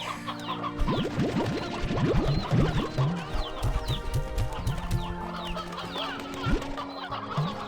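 Many chickens on a Slime Rancher 2 video game ranch cluck busily in a dense, overlapping chorus of short clucks and chatter, moderately loud throughout.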